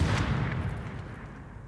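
Gunfire in the video game Tom Clancy's The Division on PC, a single loud, booming shot at the start that rolls off into a fading, rumbling tail with no voices over it.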